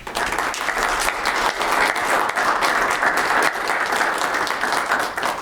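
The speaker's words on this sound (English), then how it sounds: "if you'd join me in giving Mr. Brunker a round of applause" A Weber County meeting audience gives Mr. Brunker a steady, full round of applause, dense, even clapping from many hands that holds at a constant level for several seconds.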